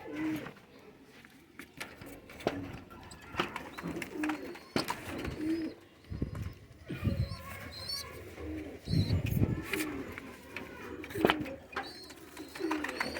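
Teddy pigeons and their month-old babies coo repeatedly at close range, soft rolling calls mixed with chirps, wing flutters and scattered knocks.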